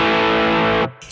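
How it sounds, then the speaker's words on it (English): Electric guitar distortion boosted by the Tube Screamer side of a TC Electronic Nova Drive pedal, a loud, thick sustained chord that cuts off abruptly, followed by a faint brief tail. "boosted with the tube screamer."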